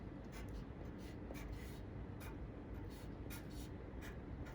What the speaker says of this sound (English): I'm going to draw some dashes. I'm going to do 3 dashes. Long, short, long.